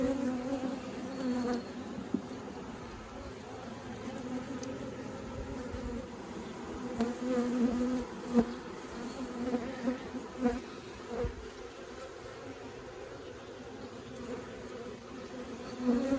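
Honeybees buzzing around an opened hive while nucs are being installed, a continuous close drone that swells and fades steadily under the hum, with no talk.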